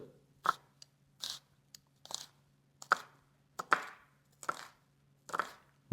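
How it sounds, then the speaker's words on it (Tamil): A knife cuts washed onions lengthwise in a run of about nine crisp chops at a steady, unhurried rhythm, each one a clear crunchy thud close at hand over a faint low hum, with no talking. "வெங்காயம் உரிச்சு போட்டு இந்த கழுவி போட்டு வெட்ட போகிறோம்"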